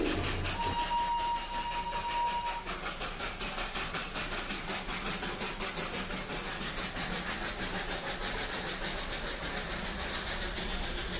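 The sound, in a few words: Darjeeling toy train approaching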